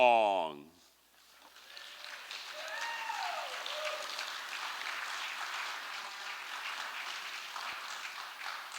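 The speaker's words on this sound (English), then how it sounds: "let's give Danny Kaiser a big round of applause" Theatre audience applauding, a faint steady wash of clapping after a short burst of a loud voice at the start, continuing evenly to the end.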